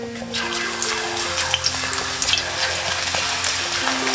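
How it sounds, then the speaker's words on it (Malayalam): Raw banana slices fry in hot coconut oil for Onam chips, a dense continuous sizzle and crackle with a low hum beneath, close and fairly loud. "അപ്പോൾ നമ്മളിനി കായ വറക്കാൻ പോവാണ്"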